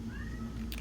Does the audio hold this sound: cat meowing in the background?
yes